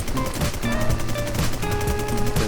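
Rapid automatic gunfire from a WarZ video game fight against a white boss, dense overlapping shots rattling continuously and loudly over a busy game soundscape with no talking.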